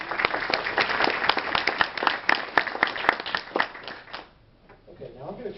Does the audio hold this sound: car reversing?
no